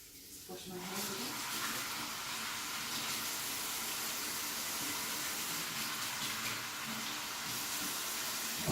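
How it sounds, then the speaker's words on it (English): Running tap water streams steadily over hands being washed in a home kitchen, a continuous close hiss and splash. "Just wash my hands again."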